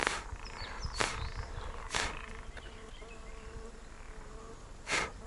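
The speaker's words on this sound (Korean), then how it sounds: "와, 날파리 겁나 댐비네." Small gnats buzz faintly and steadily around an angler by the water, with a few sharp rustling bursts over a soft outdoor background and no talk.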